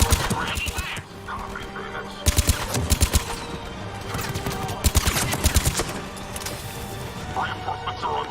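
Heavy attack in Mass Effect 3: loud bursts of rapid automatic gunfire come in repeated volleys over a dense battle din, with voices speaking over the combat.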